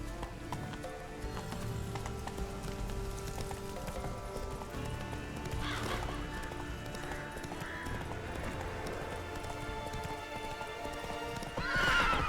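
Hooves clip-clop steadily as a horse gallops in The Witcher 3, with a whinnying neigh near the end over a continuous game music and ambience bed.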